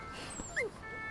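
A puppy whimpers in a short, high, thin whine with a quick yip, fairly close and alone against a quiet background.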